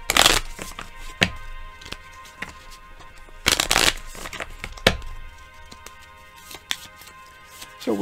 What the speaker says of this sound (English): I'm going to start shuffling.